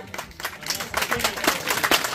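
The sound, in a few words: audience rehearsing clapping at an accordion festival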